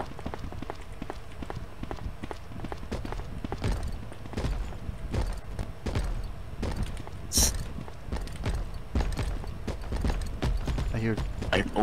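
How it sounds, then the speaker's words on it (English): Footsteps in the horror game Slender Fortress patter in a rapid, irregular stream of thuds throughout, mixed with players talking over voice chat. "That's a lot of footsteps."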